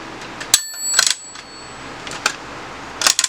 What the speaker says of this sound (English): clips in, that's it, and it hits this bell